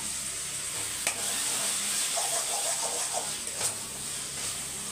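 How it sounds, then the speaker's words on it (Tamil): Tomatoes sautéing in a pan, a continuous loud sizzle with a few sharp spatula scrapes and taps breaking through. "இப்போ தக்காளியை வதக்கிடலாம்"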